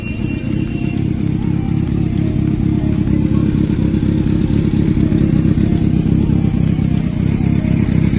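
Kawasaki Z900 motorcycle engine running close by with light throttle blips, a steady loud low rumble with slight rises and no talk over it.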